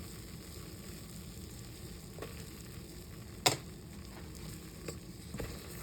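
A butter and flour roux cooks in a pan on the stove with a soft, steady sizzle, broken by one sharp click partway through and a few faint taps; no one speaks.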